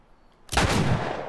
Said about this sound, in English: That was an excellent shot.